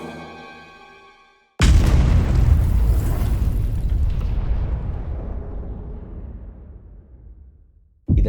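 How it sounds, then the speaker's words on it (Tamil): Uranium gun-type atomic bomb detonating in the air about 600 meters above Hiroshima: a single sudden, massive blast follows a quieter lead-in, then a long rumbling roar that slowly decays, with another loud burst cutting in at the very end. "இந்த ஏர்கிராஃப்ட்லேருந்து ரிலீஸ் ஆன இந்த பாம் 44 செகண்ட் ட்ராவல் ஆகி சரியாக ஏர்த்தில் இருந்து 600 மீட்டர், அதாவது 1968 ஃபீட்டில் இருக்கிறப்ப இந்த பாம் பிளாஸ்ட் ஆகுது"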